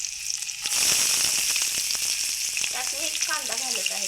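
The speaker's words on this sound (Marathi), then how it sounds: "त्यात मी 1 कांदा घालत आहे पूर्ण." A whole onion dropped into hot oil in a pan, with a sudden loud burst of sizzling that holds steady as it fries, crackling close up throughout.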